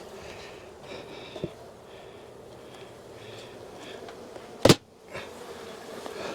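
A soft, steady buzz of many honey bees in a hive hums in the background, broken by a sharp loud click or thump near the end.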